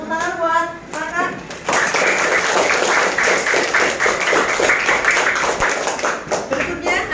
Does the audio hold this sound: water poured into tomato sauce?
no